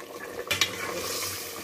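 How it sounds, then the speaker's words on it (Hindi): Masala fries in oil inside a pressure cooker pot, with a steady sizzle and a spoon scraping and stirring against the metal, close and fairly loud. "अब हम इसको थोड़ा सा मसाले को भूनेंगे"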